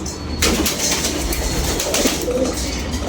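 Domestic pigeons kept by a pigeon fancier coo softly and steadily through a continuous outdoor bird hubbub, with no voices over it.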